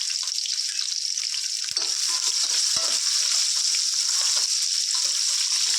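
Onions and green chillies fry in a pan with a loud, dense, steady sizzle heard up close. A couple of faint taps from a spoon stirring the mix come through the crackle.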